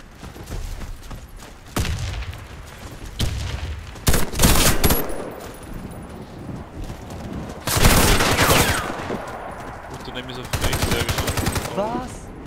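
Rapid automatic gunfire and bursts of shots in a video game clan war, loud bursts separated by quieter stretches, with players talking over the action.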